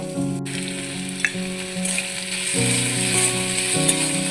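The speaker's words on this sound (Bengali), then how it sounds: "দেখো আলুটা ভাজা ভাজা হয়ে গেছে।" Potato pieces frying in a pan make a strong, steady sizzle with soft crackles close by, while faint tonal music plays in the background.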